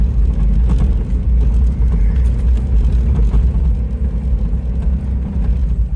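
A barn-find Ford Bronco II drives along with a loud, steady engine drone and road rumble, holding close and constant throughout.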